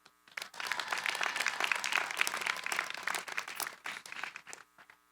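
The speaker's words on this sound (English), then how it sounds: "Let's give them another round of applause." Audience clapping at a university master's commencement ceremony swells in quickly, holds as a busy wash of hands for a few seconds, then thins out and fades near the end.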